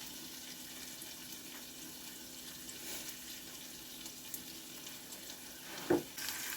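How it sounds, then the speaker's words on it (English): Onions with garlic powder, cinnamon and curry fry quietly in a pan, giving a faint, steady sizzle with a few soft stirring clicks and one brief clatter near the end. "Alright, these onions are getting a little brown, so that's awesome."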